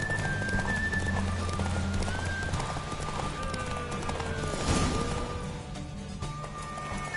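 A horse gallops in The Witcher 3, a steady, close clip-clop of hooves with a brief whinny partway through and faint game music beneath.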